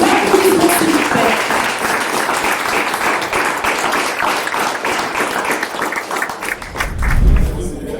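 Sustained audience applause at a Beafrikart art exhibition opening honoring the first lady of the Central African Republic, a dense wash of many hands clapping steadily, with a brief voice near the start and a low rumble near the end.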